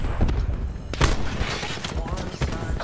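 Rapid gunfire from the shooter game Call of Duty Black Ops 4, with sharp bursts of shots and thuds spread across a few seconds over a loud, busy game mix that includes a voice.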